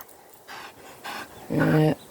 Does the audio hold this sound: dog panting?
yes